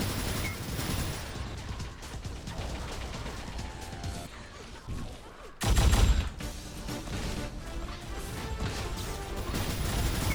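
Enforcer pistol gunfire in a 4v4 Unreal Tournament match, shots and impacts cracking repeatedly through a dense, busy game mix, with one louder heavy burst near the middle.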